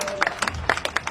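A crowd at a political speech gives a brief burst of clapping and cheering. The applause sounds uneven and moderately loud, with scattered claps.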